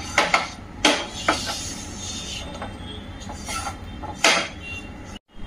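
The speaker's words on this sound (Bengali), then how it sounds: "আটাটা এই যে হালকা সেকে নিচ্ছি, আটার কাঁচা গন্ধটা যাতে চলে যায়। হালকা অল্পই ঘি দিয়েছি।" Flour roasted lightly in a small amount of ghee in a pan, heard as scraping and stirring swipes with a few sharp clatters of a utensil against the pan, fairly close, with no talking.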